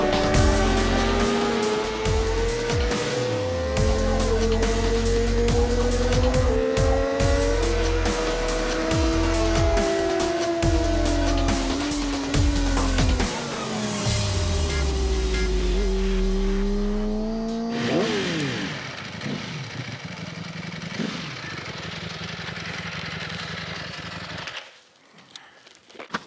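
Motorcycle ridden fast on a racetrack, its engine loud and close, revving hard and rising and falling in pitch through gear changes and corners, then easing off near the end.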